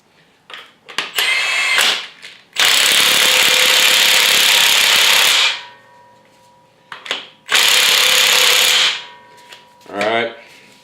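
A Milwaukee power tool revs in two long loud bursts plus a few short blips, used while fitting a pulley on a Foxbody LS engine build in a garage, with brief pauses between the revs.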